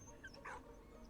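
A dog in the World War I video game Valiant Hearts gives a short, faint yelp or bark, heard briefly once against a low, steady game background.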